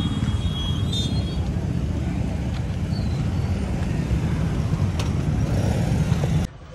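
Heavy road traffic crowds a railway level crossing, making a continuous, close rumble of engines with rushing wind noise over the microphone before it cuts off abruptly near the end.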